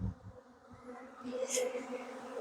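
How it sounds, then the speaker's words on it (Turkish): Agitated honeybees swarm and buzz around open hives during a honey harvest in Adana, a steady insect hum rising and thickening with a brief sharper whine midway, close to the listener. "şu an arı çok hırçın. Yani çok havalanıyor."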